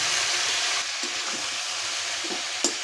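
Taro stolons fry in hot oil with turmeric, giving a loud, close, continuous sizzle with a few scraping stirs and one sharp clink near the end, no one talking.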